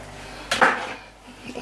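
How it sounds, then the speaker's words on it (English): Sausage, vegetable and pasta leftovers stirred in a cast iron pan, one brief clatter of a utensil against the iron with a soft scrape after it, close and alone. "I'll try and give it a stir."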